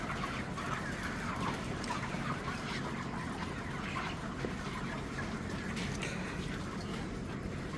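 Chickens clucking on a poultry farm during night-time catching and loading, a steady low chorus of fowl murmuring under a constant background hum, moderately distant and fairly quiet.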